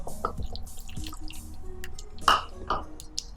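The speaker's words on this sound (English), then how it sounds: "I'm going to add a little bit more water" Water is added a little at a time to a thick flour batter, giving a few soft drips and wet squishing sounds, close and quiet.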